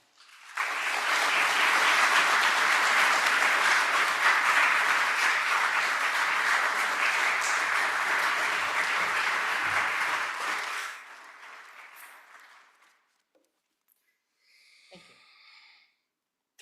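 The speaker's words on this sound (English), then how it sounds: "So please join me in that applause for Declan Walsh." Audience applause for a correspondent at a formal lecture event, a loud, dense burst of clapping that holds steady for about ten seconds, then fades away, followed by a faint brief sound.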